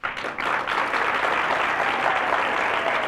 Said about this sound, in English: please, a nice round of applause for Mr. Jack Lundy.